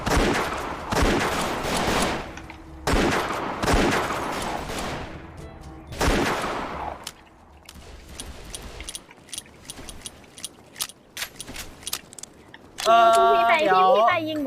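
Gunfire in The Wild West video game, a run of loud rapid bursts of shots followed by sparser clicks and game sounds, with a player talking excitedly throughout.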